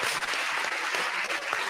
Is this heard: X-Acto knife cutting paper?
no